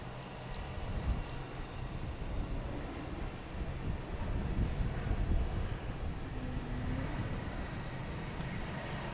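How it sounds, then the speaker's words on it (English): A JetBlue airliner coming in to land at Boston Logan gives a faint, distant, broad rumble that swells and fades gently under wind noise. "JetBlue coming in from Milwaukee, and a JetBlue coming in from Charleston"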